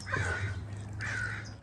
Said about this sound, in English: We got a frickin' crow in the background ruining the video.